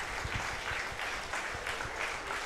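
A track and field crowd at an athletics meet claps in a steady rhythmic beat behind a long jumper before her attempt, a broad wash of applause pulsing evenly.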